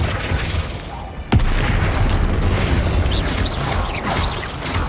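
Spell casting in the video game Hogwarts Legacy, with booming magical blasts and bursts layered over a continuous rumbling game soundscape, one sharp loud impact partway through, and no talk.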